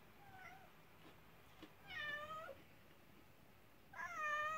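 A cat meows several times indoors, two or three clear, close cries with rising and falling pitch, separated by quiet pauses, with no talking over them.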